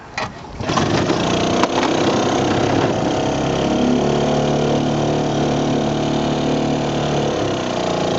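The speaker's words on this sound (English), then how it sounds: "let's try and give it a spin here and see if it'll go, and you can experience the thrill of the Elgin 2 horsepower." A 1953 Elgin 2 horsepower outboard motor is started and runs. After a brief pull and sputter, the small engine settles into a loud, steady, close-up drone that holds for several seconds.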